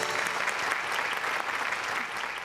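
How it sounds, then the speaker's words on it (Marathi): An audience at a stage comedy show applauds a performer with continuous, busy clapping that holds at a steady level from start to finish, moderately loud. "तुझ्यासाठी उभं राहून टाळ्या वाजवायचंही मी विसरून गेलो"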